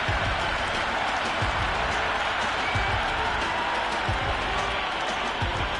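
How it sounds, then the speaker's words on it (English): Roaring cricket stadium crowd at a T20 match between India and South Africa, a dense, steady wall of cheering and clapping that stays loud throughout. "It's evident and ever so audible that the crowd is at near bursting point at today's play"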